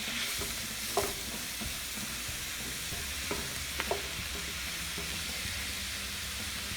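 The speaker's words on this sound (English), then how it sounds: "cook this until the turkey is broken down and browned" Ground turkey frying on medium-high heat in a pan for shepherd's pie, a constant sizzling hiss with occasional scrapes and taps of stirring, close and steady, no speech.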